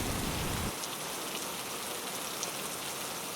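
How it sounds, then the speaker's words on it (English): Steady rain falls on surfaces in a constant dense hiss, with a louder low rumble for the first moment, then an even patter continuing throughout with no voices. "just before the rain starts"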